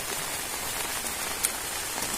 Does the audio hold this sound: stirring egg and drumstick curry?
no